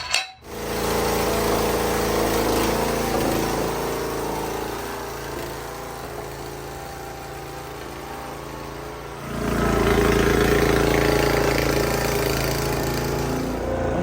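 A Snapper riding lawn mower engine runs steadily in top gear after a fix for poor movement, a loud, continuous mechanical drone that dips briefly and then swells louder in the latter half.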